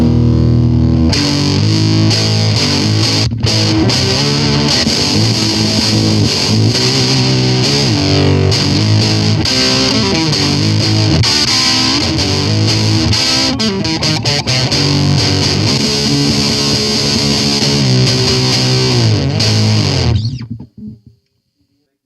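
A WMD Geiger Counter Pro distortion pedal with randomized settings plays a harsh, heavily distorted buzzing tone continuously and loudly, its pitch and texture shifting repeatedly before it abruptly cuts out at the end.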